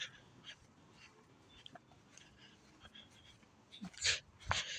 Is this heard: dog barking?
yes